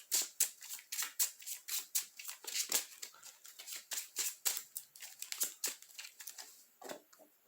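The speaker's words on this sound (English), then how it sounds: "I'm gonna shuffle them just like this." Yu-Gi-Oh card decks being shuffled by hand, a fast run of close crisp riffling snaps and slaps in an uneven rhythm.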